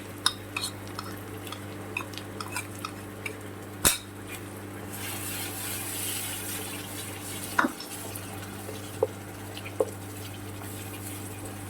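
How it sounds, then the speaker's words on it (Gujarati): A spoon stirs a yogurt-spice mixture into a dhaba-style vegetable gravy in a pan, tapping and clinking against the metal every second or two over a steady low hum and soft bubbling. "દહીંનું મિશ્રણ આપણે નાખ્યું છે એટલે એને સતત હલાયા રાખવાનું એટલે દહીં ફાટી ના જાય"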